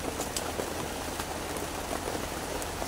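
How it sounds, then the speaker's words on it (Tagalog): Heavy rain falls steadily, a dense broadband hiss of drops drumming on surfaces with a few sharper spattering hits, constant and close throughout with no voices. "Oh, malakas pa talagang ulan."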